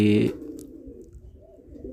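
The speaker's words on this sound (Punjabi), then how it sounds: "ਇੱਕ ਆਪਣਾ ਚਿੱਟੀਆਂ ਅੱਖਾਂ ਦਾ ਕਬੂਤਰ ਕਾਲੀ ਨੋਕ ਆ" A white-eyed, black-beaked pigeon coos softly and low, a steady murmuring call following a brief louder sound at the start, with faint room background.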